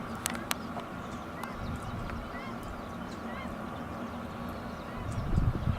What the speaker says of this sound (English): The squawking you hear is actually a duck.